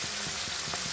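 Onions fry in a pan of oil with a dense, even sizzle and soft crackles and pops, heard briefly up close.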